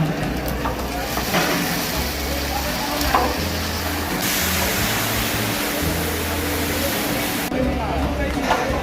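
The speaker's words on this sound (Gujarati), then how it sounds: "મગનું શાક બનાવવા માટે અત્યારે તેમનો વઘાર બનાવવામાં" A tempering (vaghar) for mung bean curry fries in a large community kitchen, giving a loud continuous sizzling hiss beneath a busy background hum and a voice speaking over it.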